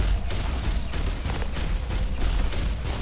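Mech weapons in Hawken blasting continuously, a dense, loud wash of rapid gunfire and explosions with no clear gaps.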